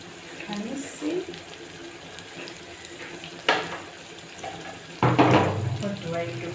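Tap water runs into a sink in a home kitchen while spinach cooks, a hissing rush in short bursts, the loudest near the end, with a person talking over it.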